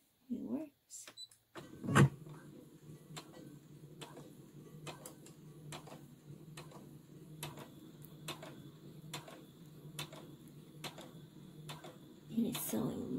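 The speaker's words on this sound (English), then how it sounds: "It is sewing real slow." A Brother SE600 sewing and embroidery machine sews slowly without its foot pedal. It makes quiet, evenly spaced mechanical clicks about twice a second, with a few louder handling knocks at the start and end.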